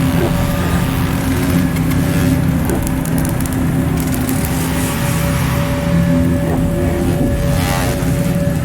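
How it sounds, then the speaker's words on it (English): A sonified black hole signal as a light black hole falls into a very heavy one: a loud, continuous roaring wash with steady low hums and rough crackling texture, sustained throughout without pause. "The sound you're hearing is a light black hole banging on space each time it gets close."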